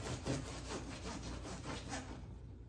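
A knife sawing through a crusty sourdough loaf, making a steady, soft rasping scrape that continues throughout. Sounds close but fairly quiet, with no talking.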